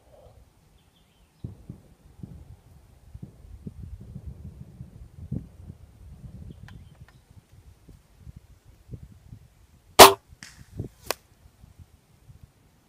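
A single sharp report from a .22 pellet air gun fired outdoors, a loud brief crack standing clear over faint background rustle, followed moments later by a second smaller snap.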